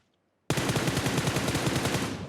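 A close, loud burst of rapid automatic gunfire from the video game PUBG Mobile, a continuous volley of about two seconds after a brief silence.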